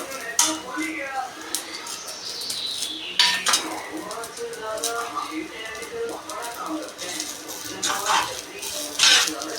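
A utensil scrapes and clinks against a cooking pan while ground coriander, cumin and garam masala are mixed in for a Marathi drumstick (shevga) masala curry, with irregular metallic taps and a voice talking over it.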